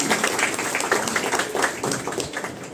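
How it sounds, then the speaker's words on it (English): Audience at an academic department's golden jubilee event claps together, a dense continuous patter of many hands at moderate loudness, steady throughout and tapering slightly at the end. "So let's clap at least for today that we are at 50."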